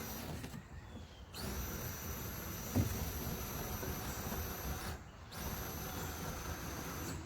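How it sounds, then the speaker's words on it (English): A cordless drill with its torque setting turned all the way down drives a screw during a Mighty Mount install, a steady motor whir running in two long stretches broken by brief pauses, close and fairly loud, with no talking. "I always take my torque setting on my drill and turn it all the way down, and you just kind of push down and just start it turning"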